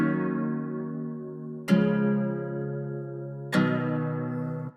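Ambient guitar loop in FL Studio processed with Valhalla reverb and an Abbey Road vinyl wow-and-flutter plugin, lows cut: three soft chord strikes that swell and decay into a washy, slightly wavering tail, with no talking.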